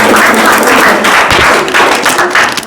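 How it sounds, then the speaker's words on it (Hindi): A crowd at a Saturday test prize event for Umesh Kumar claps loudly and steadily for a few seconds. "ताली बजाओ भाई उमेश के लिए।"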